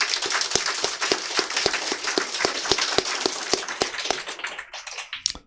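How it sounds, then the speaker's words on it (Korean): Applause from an audience at a party meeting in a hall, an even clatter of many hands that keeps going for several seconds before thinning out near the end. "우리 석경 선생님한테도 박수 한번 해주세요."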